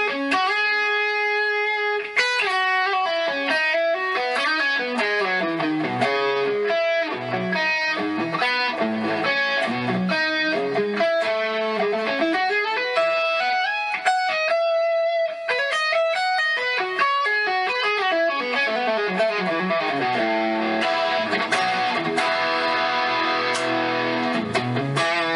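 ENYA Nova Go Sonic smart guitar played with a delay effect, a continuous run of bright, repeating notes that trail and overlap, loud and close throughout with no talking.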